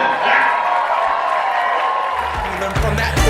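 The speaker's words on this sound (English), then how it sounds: "Let's give a big round of applause to our newlyweds, Sameer and Shalini." Guests at a wedding reception for the newlyweds break into sustained applause and cheering, a dense crowd wash that holds steady before a thumping music beat kicks in underneath near the end.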